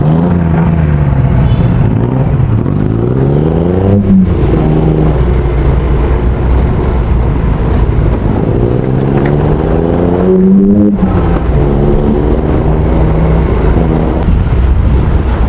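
A company delivery truck in a J&T convoy revs its engine loudly and close, its rumbling tone climbing and falling in repeated surges over steady road and wind roar.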